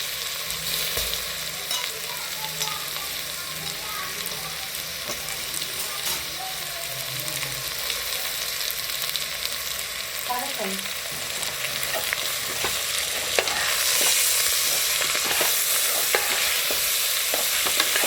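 Washed basmati rice is stirred in a hot pan with homemade spices for village-style masale bhat, producing a steady sizzle and frying crackle with repeated scraping of the spoon, close up and continuous.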